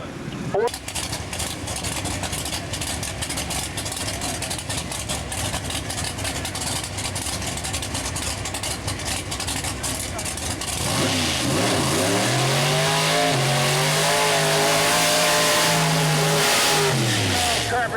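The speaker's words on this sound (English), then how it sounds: "Completes the burnout here on the tower side of the raceway." A 1955 Chevrolet Pro Mod drag car does its burnout at a dragway, its engine droning loud and steady, then revving in rising and falling sweeps, with an announcer talking over it.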